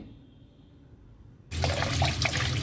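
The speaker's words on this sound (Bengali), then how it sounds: "এই আমটাকে আমি ভালো করে ধুয়ে নেব প্রথমে" Tap water runs onto raw mangoes being washed in a kitchen sink, starting abruptly after a quiet moment and splashing steadily up close.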